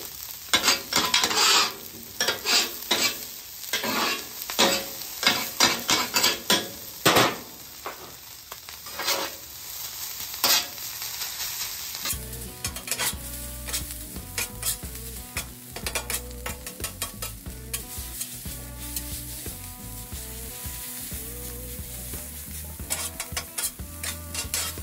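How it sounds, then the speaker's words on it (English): A metal spatula stirs, scrapes and chops rice on a hot hibachi griddle while it sizzles, quick rhythmic clacks over a constant frying hiss that turns lower and denser halfway through. "Right now, you're just basically breaking up the rice, getting all those individual pieces broken up."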